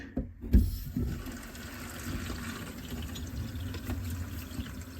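Water filling and pressurizing an under-sink drinking water filtration system, a steady low rushing hiss after an initial knock, continuous and close.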